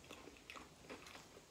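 Close, crisp crunching of tangy lime-flavored Takis Blue Heat hot chili pepper tortilla chips being bitten and chewed, several sharp, uneven crunches over a quiet background with no talking.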